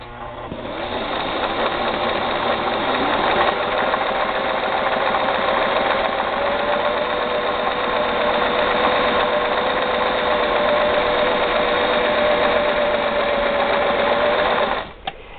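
A Singer 500A sewing machine on a vintage foot pedal runs steadily after oiling of the needle bar area, a loud, even, continuous hum and whir lasting about fifteen seconds before it stops abruptly.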